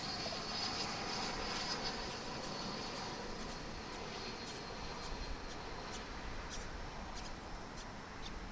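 An Embraer 145 LR jet at DFW airport, a faint, distant broadband engine roar holding steady with a thin high whine on top, no voices.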